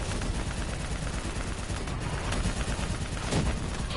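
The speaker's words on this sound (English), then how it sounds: "Fire on that VTOL!" Heavy gunfire aimed at a VTOL aircraft in the shooter game Call of Duty Black Ops 3: a dense, continuous roar of rapid shots and combat noise, loud and unbroken throughout.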